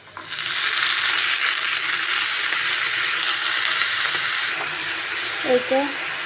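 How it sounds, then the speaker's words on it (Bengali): Potato bhaji with onion frying in a pan, heard as a steady close sizzle with a stirring, scraping rattle and a brief murmur of voice near the end. "পেঁয়াজটা বাজা হয়ে গেছে এখন আমি আলু ভাজিটা দিয়ে দিচ্ছি"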